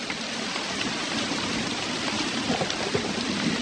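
Steady rain falls throughout during a wild boar hunt over a corn pile, a dense, even hiss of drops on surfaces with no talking and no pauses.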